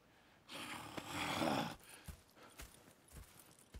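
A horse in the video game Red Dead Redemption 2 on Xbox One gives a long, breathy snort, followed by a few scattered hoof clops, close and fairly quiet with no voices.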